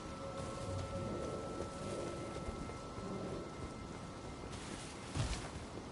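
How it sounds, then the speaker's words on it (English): Rain falls steadily inside the academy in the video game Elden Ring, a dense, even patter with a low rumbling undertone and a brief louder splash near the end, faint and without voices. "I want to know why it's always raining inside the academy."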